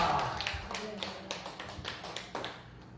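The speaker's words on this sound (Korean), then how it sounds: "영광의 박수 할렐루야로 올립니다" A church congregation claps in applause during a sermon, a fairly quiet series of scattered, uneven hand claps over roughly three seconds, fading slightly toward the end.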